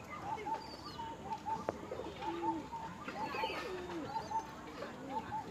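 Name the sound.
deep-eyed white pigeon cooing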